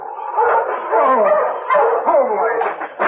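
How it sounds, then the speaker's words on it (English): A sled dog barks a warning in a quick series of sharp, close barks and yips, thin and band-limited like an old radio broadcast. "He barked a warning to his master when he saw the team heading toward them."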